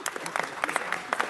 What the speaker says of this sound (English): Let's give one round of applause.